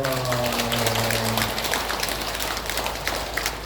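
Buddhist monks clapping for participants at the close of a seven-day New Year prayer service in a temple hall, a soft, dense patter of applause that continues steadily after a brief sustained tone fades at the start.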